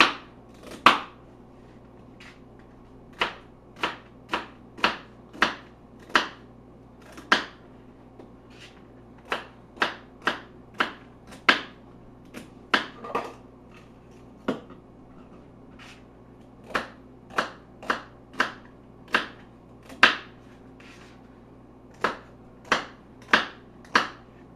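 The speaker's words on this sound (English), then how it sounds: "What we're going to do is just kind" A knife chops celery on a board in sharp, distinct taps. Some strikes come in quick bursts and others are spaced apart, all close and clear over a quiet background.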